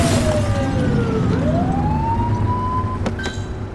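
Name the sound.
police car siren in GTA-style video game The Precinct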